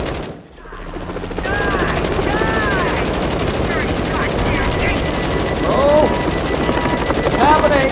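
Sustained, rapid automatic weapon fire in the Planet of the Apes VR game, loud and dense for most of the stretch after a brief dip near the start, with scattered whooping calls over it and a voice joining in.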